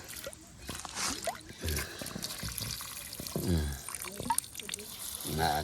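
Water trickles and splashes softly outdoors in an uneven, gurgling flow, with occasional drips. Voices talk over it now and then.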